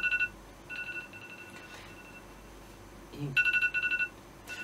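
A telephone rings indoors with bursts of pulsed electronic tones, quiet and a little distant, falling silent between rings before a final louder burst.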